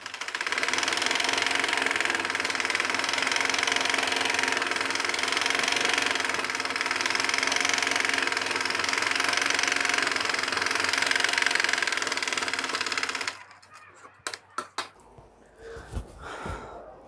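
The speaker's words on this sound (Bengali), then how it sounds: "দর্শক আসলে আমরা ওই পায়ে যেভাবে নিচে সেলাই করেছি একইভাবে আমরা এই পায়েও সেলাই করে দিচ্ছি" A sewing machine stitching the hem of a trouser pajama leg, a steady mechanical whir and rapid knocking that runs for about thirteen seconds, then stops and leaves scattered faint handling sounds.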